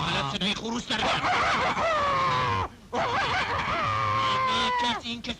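A person imitates a rooster crowing with two long, wavering, drawn-out calls. The voice is close and loud, with a brief break between the crows.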